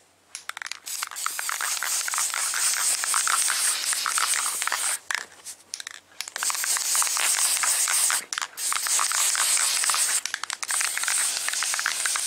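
Guide coat lightly misted from an aerosol can onto a fiberglass wiper cowl panel: steady hissing spray bursts lasting several seconds each, separated by brief pauses, close and fairly loud with no talk.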